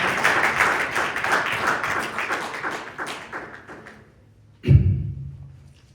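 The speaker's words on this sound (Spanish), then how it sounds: "Regale una ofrenda de palmas al Señor." Congregation in a church service claps together in a dense, sustained burst of applause that tapers off, then ends with a single louder thump.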